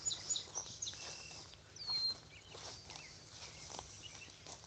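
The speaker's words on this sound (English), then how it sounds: "Lots of birds tonight." Birds chirp faintly in scattered short calls along an evening walking path, with soft footsteps and quiet outdoor ambience.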